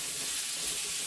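Vegetables for a veg roll filling fry over a medium flame in a pan, giving a steady, close sizzling hiss throughout with no talking.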